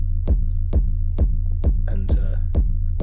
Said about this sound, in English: So you've got a pumping sub bass and a pumping distortion on the kick, so it's like a really rhythmic pump.